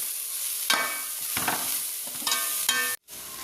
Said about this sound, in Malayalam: മഞ്ഞൾപ്പൊടി ചേർത്ത് നന്നായി മിക്സ് ചെയ്യാം.